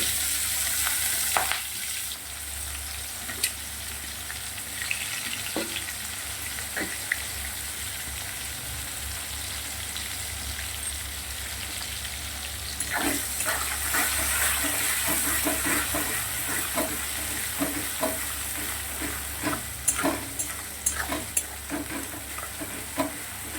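Onions sizzle and fry in hot oil with whole cardamom, cinnamon and cloves, with steady frying hiss and intermittent stirring scrapes and clinks from a spoon in the pan, no talking.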